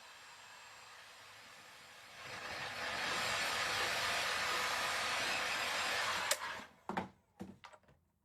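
Hair dryer blowing on a blinged DIY hat, a steady close whoosh that swells in, runs for several seconds, then cuts off, followed by a few handling knocks.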